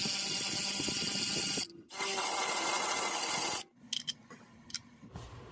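Fast ratchet clicking removes an oil pan bracket bolt on a Chevy/GMC 3.6L engine, two long close bursts separated by a brief pause, followed by a few scattered metallic clinks.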